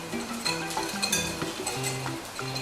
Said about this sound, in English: Now give this a whisk first